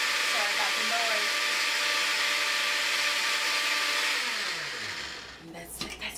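A blender purees lima bean soup with bacon in a loud, steady high whir close by, then its motor winds down and stops near the end.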